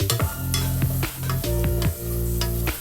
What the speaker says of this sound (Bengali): এবার শুধু আমরা এটাকে ভাজা হতে দেব, দু পিঠ ভালোভাবে ভাজা করে নিতে হবে।